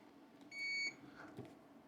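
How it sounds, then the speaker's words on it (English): A continuity tester gives a single clear electronic beep, steady for about a third of a second, while a faulty Atari 2600 CX40 joystick is probed, against a quiet background. "Then we press it, and it beeps."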